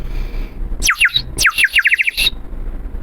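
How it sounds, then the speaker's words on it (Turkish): A water whistle toy warbles in two quick bursts of bright, bubbly bird-like chirps, trilling rapidly up close before stopping. "bülbül sesi gibi, kuş sesi gibi e, bülbülü ötüyormuş"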